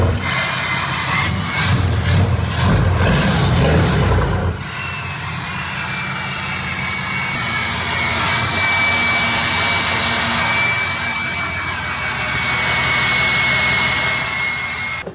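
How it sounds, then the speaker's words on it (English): A loud, deep Cummins diesel engine with dual exhaust, swapped into a TRX, roars revving up, then settles into a steady heavy rumble that swells and fades, close by and continuous. "Give her a little rev, David."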